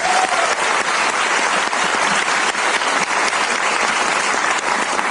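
A crowd claps steadily for parents being honoured at an Amway business gathering, a dense, even roar of hands that runs unbroken for several seconds without speech.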